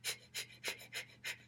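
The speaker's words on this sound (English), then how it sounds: "and you just start panting like a dog." A person pants rapidly like a dog during a breathing exercise, six quick breathy huffs in an even rhythm, close and fairly soft.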